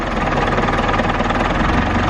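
Diesel engine of a Case 895 tractor running at a steady idle, loud and close, with an even knocking rumble throughout.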